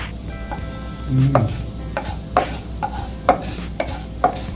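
Pirandai roasts in a pan while a utensil scrapes and stirs in regular strokes, roughly twice a second. A soft sizzle runs beneath the close, repeated scraping and no one speaks.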